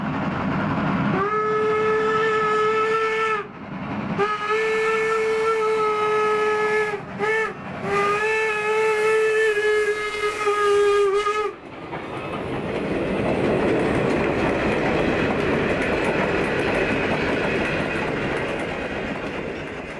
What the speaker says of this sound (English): Steaming gently in the Pennsylvania Dutch countryside, it's hard to imagine this delicate machine as the biggest locomotive ever on the N&W in 1907.